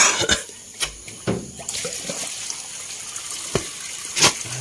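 Water being siphoned out of a tank holding Sangkuriang catfish fry, with splashing and trickling, scattered sharp knocks and a brief cough nearby over a steady wet hiss.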